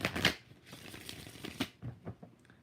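A deck of tarot cards being shuffled during a live reading, with several rapid riffling bursts of papery flutter and soft card slaps in quick succession, close and fairly loud with no talking.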